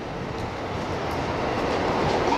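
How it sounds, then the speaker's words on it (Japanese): A commuter train pulls in at a station platform on a Shinjuku-bound line in the Tokyo area, its steady, loud rolling rumble and wheel noise filling the whole stretch without pause. "新宿行きが参ります。"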